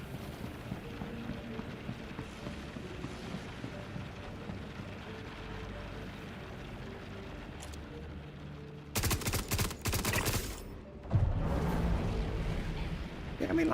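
Bursts of fire from a small gun in Star Citizen, dense loud rattling that breaks in after a stretch of quieter ambient game noise and continues in a second burst.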